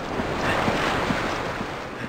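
Beach surf and water wash steadily in the Resident Evil 5 video game, a continuous hiss of waves with soft rolling swells, heard alone without voices.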